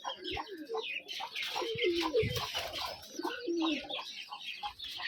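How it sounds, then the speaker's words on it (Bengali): Rajshahi giribaz pigeons in a loft cooing and fluttering restlessly before feeding, a dense continuous chorus of soft coos and wing flutters close by, with a voice talking over it. "কবুতর সব খাওয়ার জন্য আর কি ছটফট করছে"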